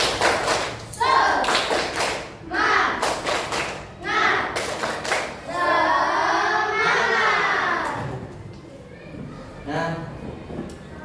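Schoolchildren in a classroom doing a rhythmic spirit clap, sharp bursts of clapping in a set pattern broken by loud shouted chants from the group, ending in scattered quieter taps.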